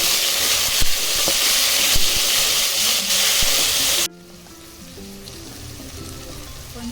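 Marinated chicken pieces fry in a hot spice masala for a chicken fry-piece biryani, a steady loud sizzle and hiss that drops sharply to a quieter crackle partway through, with faint stirring clinks.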